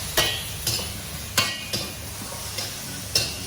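Noodle sauce stirred in a hot wok during a Vietnamese cooking class, with a spatula scraping in short, regular strokes about every half second over a soft sizzle.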